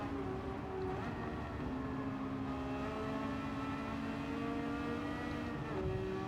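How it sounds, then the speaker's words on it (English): A Nissan Skyline GT-R R35 races in Gran Turismo 7 on the Tokyo Expressway with a steady, droning engine tone whose pitch slides slowly, holding at a constant level without speech. "I do enjoy the sound of that R36, the R35 in front of us."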